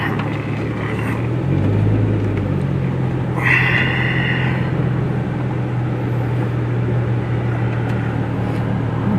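A chop-top car drives along with a steady, loud engine rumble and road noise throughout, a brief higher whine rising and fading midway, with no talking.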